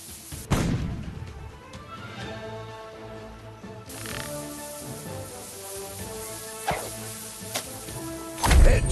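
Video game gunfire sounds as several sharp, booming shots spread across the clip, the loudest near the start and at the end, over a dense musical game background.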